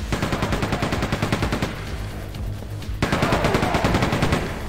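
Rapid bursts of machine gun fire from the Quake 2 video game, loud and close with rattling repeated shots, a short break in the middle, then another sustained burst.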